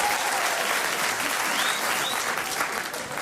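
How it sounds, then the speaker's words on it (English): Sustained audience applause at a comedy show in Boston, dense and steady clapping from a full room that holds for the whole stretch, with faint cheering mixed in. "Give us a round of applause, please."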